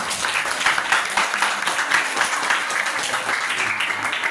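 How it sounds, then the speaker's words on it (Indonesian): An audience claps on the last day of a Sanlat Islamic holiday school program, producing steady, continuous applause from many hands for several seconds. "Tepuk tangan sekali lagi untuk mereka."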